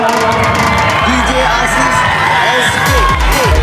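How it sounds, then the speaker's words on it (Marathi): Loud, continuous crowd noise from a school annual gathering audience, with cheering and shouts of children over sustained applause throughout. "जोरदार टाळ्या वाजवा."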